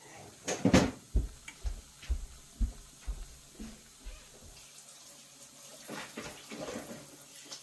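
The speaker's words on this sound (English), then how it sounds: "Let me wash my hands because I am drenched in egg." Egg-covered hands being washed under a running kitchen tap: splashy, uneven water bursts and small knocks, strongest early on, then a quieter, steadier trickle, with no talking.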